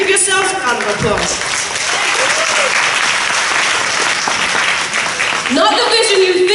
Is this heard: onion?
no